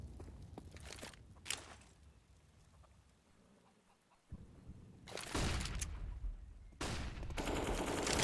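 AK-47 gunfire in CS:GO, loud bursts of rapid shots in two separate clusters after quieter footsteps and ambient shuffling, the later bursts dense and sustained.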